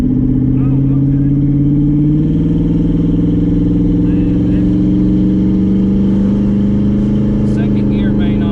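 A twin turbo Ford Mustang with a loud, close engine drone that climbs in pitch as it accelerates, then shifts and pulls on, with people talking faintly over it.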